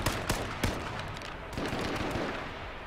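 Rapid bursts of gunfire in the video game H1Z1 crack and echo over a constant noisy background, several sharp shots in quick succession.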